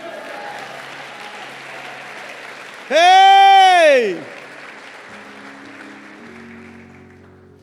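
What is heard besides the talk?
audience applause and shouts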